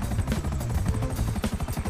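A helicopter in the video game GTA 5 gives off a close, loud, rapid rotor chop over a buzzing engine drone, without any voices.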